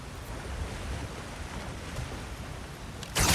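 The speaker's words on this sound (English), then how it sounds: "Sounds like you got the water moving along" Water rushes and churns in a steady low wash that holds throughout, ending with a sudden louder burst of noise, in the video game God of War Ragnarök.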